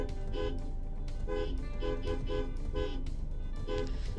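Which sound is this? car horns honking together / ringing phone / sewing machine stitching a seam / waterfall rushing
car horns honking together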